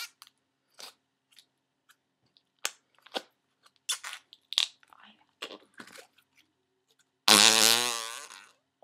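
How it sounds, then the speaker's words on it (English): A fart noise maker toy gives a long, loud, buzzing sputter near the end, after scattered clicks and handling noises, close to the recorder. "So I have this farting noise maker."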